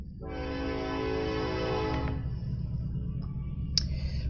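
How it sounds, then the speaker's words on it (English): A train horn blares loudly for about two seconds, then cuts off while the low rumble of the passing train carries on, with a few clicks and a brief squeal near the end. "And I got a train coming, because of course I got a train coming."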